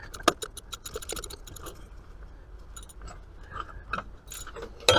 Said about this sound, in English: And then we're going to grab our socket wrench, our ratchet.